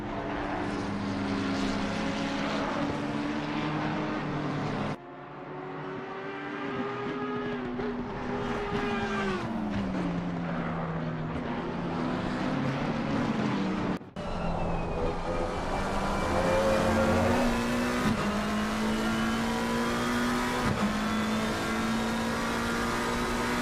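The number 27 Audi GT race car in a GT Americas race at Imola roars past with high-revving engine note, rising and falling through gear changes, cars heard continuously at close to moderate distance.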